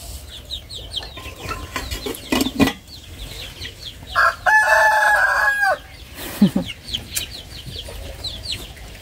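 Chickens cluck and a rooster gives a loud, sustained crow nearby, with scattered clucks and hen calls around it and faint background noise.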